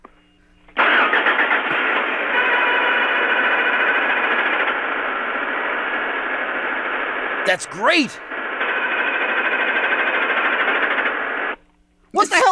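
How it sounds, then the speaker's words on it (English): A recorded car engine runs steadily and loudly, cuts out for a brief moment, then resumes and runs on before stopping near the end; a person speaks briefly over it. "You'll hear the car begin, and then the engine, you hear the engine, the noise stops, and then it continues again."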